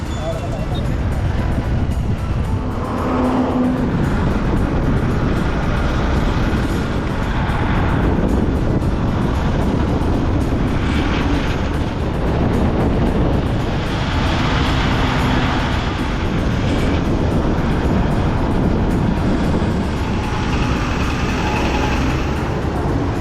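Steady engine drone with heavy wind rush throughout, like riding on a motorbike, loud and continuous with no pauses.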